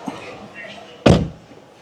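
A single solid thunk of a 2025 Mercedes-AMG CLE 53's door shutting, close by, after a moment of quiet background murmur.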